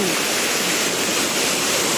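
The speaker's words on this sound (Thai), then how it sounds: "อันนี้เป็น อุทยาน น้ำตกนะครับผม" Sam Lan waterfall in the Thung Kabal Kabai wildlife sanctuary, Sisaket, Thailand, gives a loud, close, unbroken roar of rushing water that fills the whole moment evenly.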